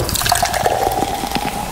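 Mina Linda mineral water from Rondônia pours steadily for a toast, a continuous close splashing trickle with no voices.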